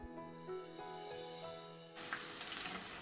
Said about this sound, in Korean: 달군 팬에 식용유 두르고 썰은 애호박 하나하나 팬에 올려줍니다.